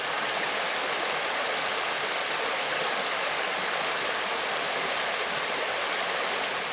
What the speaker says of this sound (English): We've got a beautiful little stream for a backdrop tonight, and the sound of the water is so peaceful